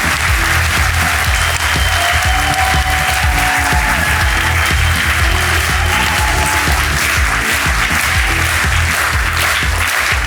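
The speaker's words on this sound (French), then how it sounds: "Un tonnerre d'applaudissements pour nos chefs d'équipe." Studio audience at a French kids' TV game show applauds the team leaders: dense, loud, sustained clapping throughout, with faint talk underneath.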